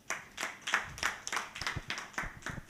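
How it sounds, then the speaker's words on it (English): A small audience at a student health competition event claps in a sparse, uneven rhythm, individual claps distinct and fairly faint, with no talk over them. "A round of applause to my chairman"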